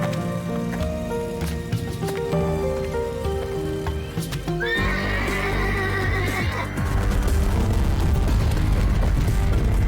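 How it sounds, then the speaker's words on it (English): A fantasy horse-like creature from the video game The Legend of Dragoon neighs loudly in a drawn-out whinny with hoof clatter, over layered game music and ambient effects. "it's very clearly not a horse, but it does make the same noise as a horse"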